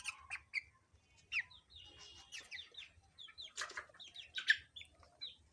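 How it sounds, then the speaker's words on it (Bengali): Chickens cluck and squawk repeatedly while being caught to be put into their coop, with scattered flapping and agitated calls across the whole stretch. "মুরগিগুলা খোপে দিবে সেই জন্য ধরতেছে।"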